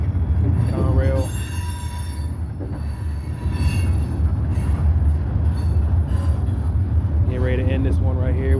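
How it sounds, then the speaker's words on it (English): Norfolk Southern mixed manifest freight train passes southbound on single track on the Newcastle District, wheels squealing loudly over a constant heavy rumble of rolling cars. "Mixed manifest freight train southbound on the single track NS Newcastle District."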